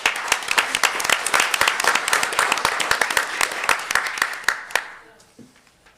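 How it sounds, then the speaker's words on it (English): A room of attendees at a school district board meeting applauds honored employees, loud, close, crisp claps that build and then taper off to silence near the end. "So let's give them all a big round of applause."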